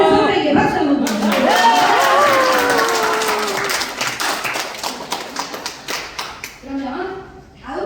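Audience at a broadcast-speech workshop breaks into steady clapping over lingering talk, the applause swelling then thinning into scattered individual claps toward the end.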